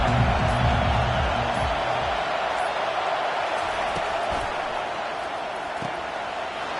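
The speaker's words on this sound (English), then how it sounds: "They challenge this crowd to bring the energy, and I'd say they're doing that." Football stadium crowd noise in the NCAA 25 video game, a dense, loud, continuous roar that holds steady throughout and fades slightly toward the end.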